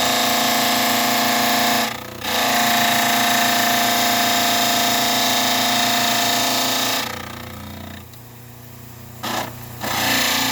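Grinding wheel trimming a dental stone cast, a steady high motor whine with rapid rhythmic grinding, briefly interrupted near two seconds, then dropping off after seven seconds before a short restart.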